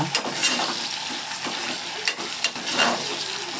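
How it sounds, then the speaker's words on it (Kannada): Potatoes frying in oil give a steady broadband sizzle, close and moderately loud, broken by scraping stirs and clicks against the pan; no one speaks. "ಈಗ ಇದ್ರಾಗೆ ಆಲೂಗಡ್ಡೆ ಒಂದು 2-3 ನಿಮಿಷ ಫ್ರೈ ಆಗಬೇಕು."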